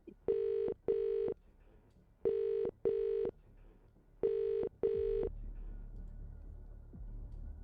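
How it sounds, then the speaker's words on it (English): Two-beep telephone rings repeat three times in pairs, a steady electronic trill coming through the earpiece of a phone placing a call, followed by a low continuous line hum. "So you take your phone and call."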